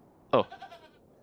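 A goat in the game The Excavation of Hob's Barrow gives a single short, bright bleat, followed by a few fainter wavering tails as it trails off, alone against a quiet background.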